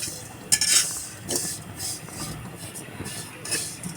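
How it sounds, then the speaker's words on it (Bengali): Vermicelli frying in ghee, a soft sizzle under irregular scraping and clinking strokes of a spoon in the pan, close and moderate, with a voice talking over it. "দেখুন খুব সুন্দর করে সেমাইটাকে ভেজে নেওয়া হচ্ছে তেলে, সরি ঘিতে।"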